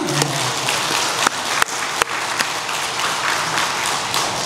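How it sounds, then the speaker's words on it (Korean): A church congregation applauds the choir during a Sunday service, a steady wash of many hands clapping with a few sharper claps standing out, continuous for the whole stretch. "훌륭한 찬양대를 주신 하나님께 감사의 박수하십시다"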